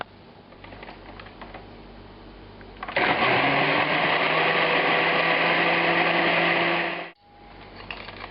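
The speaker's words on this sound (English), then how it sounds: "Now this goes into a blender." An electric blender purees Georgian satsebeli tomato sauce. A quiet hum kicks up into a loud, steady high whine for about four seconds, then cuts off abruptly.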